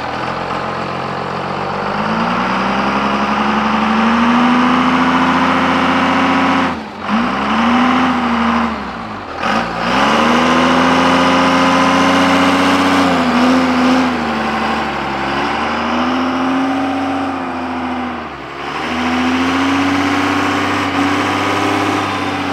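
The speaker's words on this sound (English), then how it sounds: "That 12-valve Cummins power, you know?" A 12-valve Cummins diesel engine runs in a car, loud and close, with a steady throbbing idle broken by several short revs and dips in pitch, and no one talking over it.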